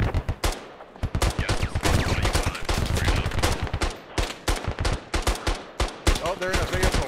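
Machine gun fire in the Squad military video game, rapid bursts of shots in quick succession with short pauses between strings, loud and close, mixed with other gunfire.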